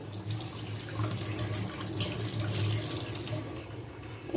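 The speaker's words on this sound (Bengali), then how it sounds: "এবার জল দিয়ে আমটা ধুয়ে নেব" Tap water runs steadily into a sink while mangoes are washed under it, a continuous close splashing stream with no talk.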